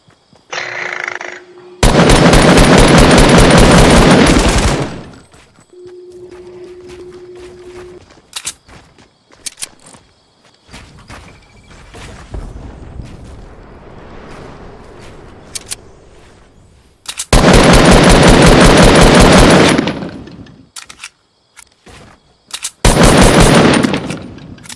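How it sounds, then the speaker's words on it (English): Gunfire in the Fortnite video game, Chapter 1 Season 5, rattles in long rapid automatic bursts, loud and close, separated by quieter stretches of footsteps and isolated single shots. "That gun sounds sick."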